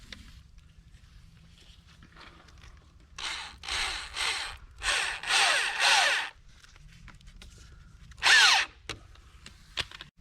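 Power drill driving a small, fine-threaded drywall screw, with several loud whirring bursts one after another and a final short burst after a pause.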